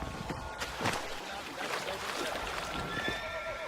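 A horse neighs and whinnies in the Red Dead Redemption video game, a couple of strong calls over a steady outdoor backdrop near a beach, with no talking.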